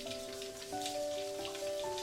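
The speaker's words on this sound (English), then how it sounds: "3 days later, it finally rained." Steady rain falls across the whole stretch, a dense even hiss of drops with a sustained tonal musical bed layered over it, with no voices present.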